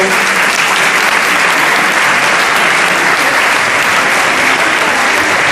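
Dense, loud applause from a crowd at a cultural award ceremony as finalists come forward to collect their prizes, sustained and even throughout without pause.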